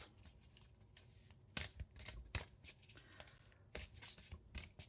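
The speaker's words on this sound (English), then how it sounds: "let me shuffle again" A deck of tarot cards is shuffled by hand in soft, quiet bursts of riffling and rubbing, close up and faint, with brief pauses between the passes.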